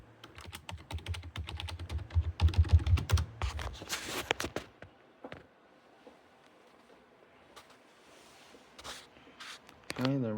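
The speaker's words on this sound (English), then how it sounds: "Let me type in my password." Keys clatter on a Chromebook keyboard as a password is typed, a quick burst of close taps with a few louder clicks, followed by quieter scattered presses and a final thump.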